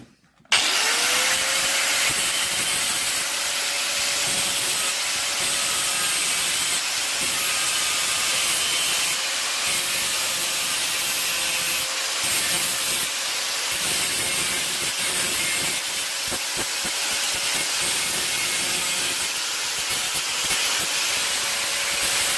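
Gasless flux-core wire welding builds up worn flywheel teeth, a loud, sustained crackling hiss running nearly unbroken for over twenty seconds with a faint steady whine and brief dips where the arc stops.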